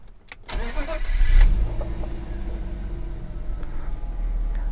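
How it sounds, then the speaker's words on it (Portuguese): A 1998 BMW 323i Sport cranks and fires up, with a brief starter whir, a loud catch, then a steady, close, deep idle rumble; no one talks. "Vamos ligar o carro."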